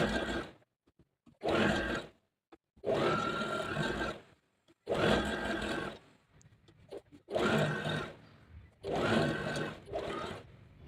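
A sewing machine double-stitches a top made over from old palazzo pants. It runs in about six short, close bursts of fast stitching, each broken by a moment of silence.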